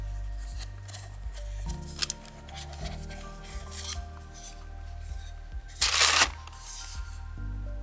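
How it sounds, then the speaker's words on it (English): Cardboard tabs torn off a Pixel Buds Pro box, giving rasping, rubbing paper sounds with a louder ripping burst near the end, close up over a low background hum and no talk. "Tear these off."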